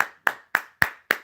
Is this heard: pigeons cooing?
no